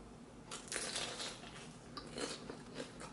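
Bites into a crunchy vegan vegetable spring roll dipped in sauce, giving a few sharp crackling crunches close to the mic, with a louder burst near the middle and quieter crumbly snaps toward the end.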